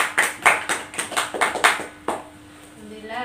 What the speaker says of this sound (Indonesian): Beri tepuk tangan untuk temannya yang sudah maju.